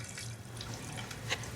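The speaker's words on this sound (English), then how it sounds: "Put the taps on." Water runs steadily from taps into a sink, a continuous close rushing splash with no talking over it.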